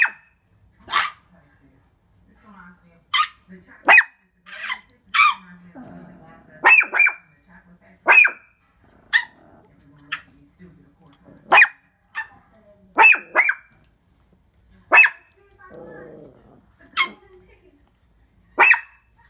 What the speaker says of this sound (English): you've been barking for 3 minutes